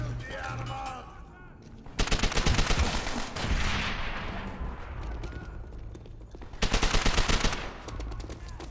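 Gunfire in Call of Duty: World War 2: two loud bursts of automatic weapon fire, one around the two-second mark and another near the end, with a lighter rumble of shots and battle noise between them.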